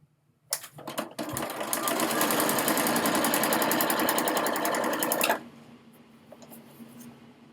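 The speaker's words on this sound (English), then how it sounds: "I'm going to center that on the piece and sew it." Sewing machine stitching fabric triangles for a holiday banner: a brief start-up rattle, then a steady, close, rapid mechanical whir for about four seconds before it stops abruptly into quiet room tone.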